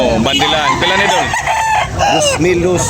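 A rooster at a fowl market in Carcar, Cebu, Philippines crows loudly and close by, a long strained call among clucking fowl, with a faint voice in the background.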